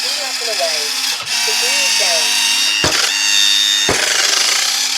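Electric retractable landing gear on a Dynam Spitfire RC plane whirs with a steady mechanical hum, interrupted by a few sharp clicks and stops, close by and loud, with a faint squeaky chatter in the first half.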